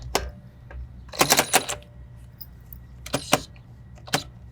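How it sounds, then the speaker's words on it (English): A Ryobi ONE+ cordless ratchet strains against a tight lug nut in several short bursts of rapid clicking and ratcheting, loud and close, separated by brief pauses, with no talking. "can the Ryobi ratchet actually break that lug nut free"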